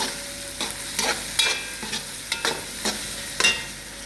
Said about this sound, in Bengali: আপনারা দেখবেন এই যে প্রথমে তেল দিয়েছি, তারপরে পেঁয়াজ দিয়ে দিয়েছি।